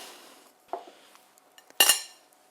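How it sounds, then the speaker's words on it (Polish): Spoonfuls of horseradish drop into a pot of homemade żurek, giving a soft clink and then a louder, brief metallic scrape of a spoon against the pot, with no voices. "Dodaję dwie łyżki chrzanu"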